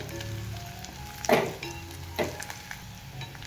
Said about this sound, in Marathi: याला पण चांगलं परतून घेऊ कांद्याबरोबर